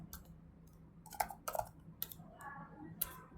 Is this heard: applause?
no